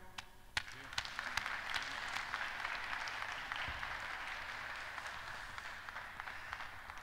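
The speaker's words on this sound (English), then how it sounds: "a round of applause to them" A conference audience applauds in a steady, dense round of clapping that holds for several seconds, with a few sharper individual claps standing out near the start.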